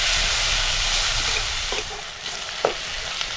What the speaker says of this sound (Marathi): तेल तापलंय. आता आपल्याला ह्याच्यात कांदा टाकायचा आहे.